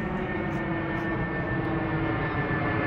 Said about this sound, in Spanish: Mira, ahí va otro avión.